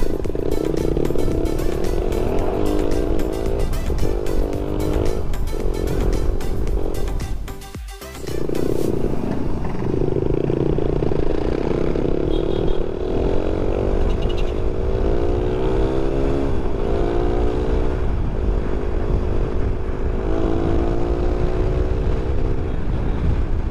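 A Suzuki Raider R150 motorcycle fitted with an Apido power pipe exhaust rides along with a loud, steady engine drone and rising and falling revs, briefly dipping quiet partway through.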